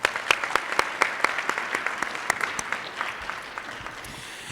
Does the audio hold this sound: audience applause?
yes